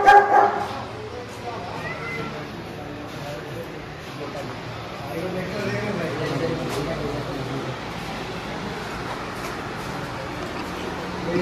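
Dogs kept confined at a farm in Moosa village, Punjab, barking at mid distance beneath steady talking and outdoor background noise.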